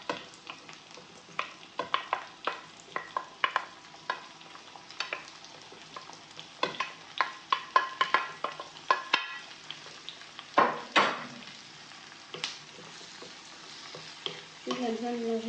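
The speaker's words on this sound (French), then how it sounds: "Je viens ensuite rajouter la tomate ainsi que les légumes." A utensil stirs tomato and vegetables into minced meat in a hot pan, scraping and clacking in frequent irregular strokes over a continuous close sizzle, with no voices.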